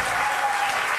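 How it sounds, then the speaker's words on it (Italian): Audience applause in a television studio, a brief dense wash of clapping at even loudness. "fatemi un bel applauso"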